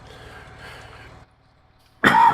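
After quiet rustling and a short pause, a single harsh cough bursts out close to the microphone.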